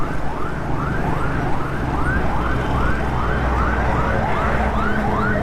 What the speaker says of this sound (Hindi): अल्लाह खैर करे, कोई एम्बुलेंस पीछे पीछे है।